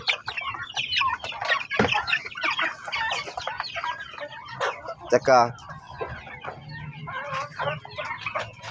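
Young turkeys and chickens in a small brooder, chirping and clucking continuously with overlapping calls, a brief louder squawk, a voice speaking among them.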